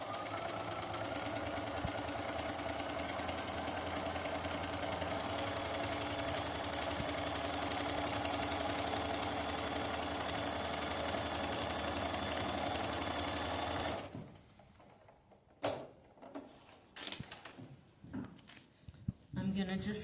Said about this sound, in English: We're going to sew that line. I'm sewing on line 3 now.